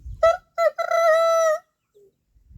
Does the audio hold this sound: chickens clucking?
yes